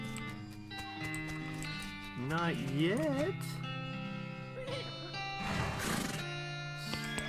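Horse whinnying in the West of Loathing video game, a wavering neigh rising over game music with a person talking over it.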